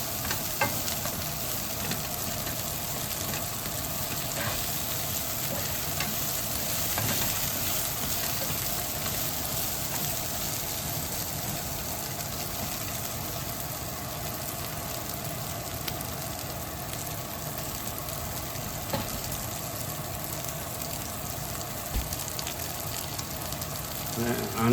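Onions frying in a pan during a steak cooking challenge, a dense, even sizzle with a steady hiss and low rumble, close and continuous for about twenty-five seconds, with a few faint clicks and no talking over it.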